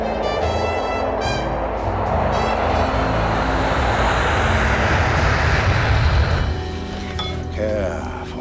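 Steady airliner engine drone fills the passenger cabin during a flight to Tokyo, a continuous broadband roar under intermittent speech, easing slightly near the end.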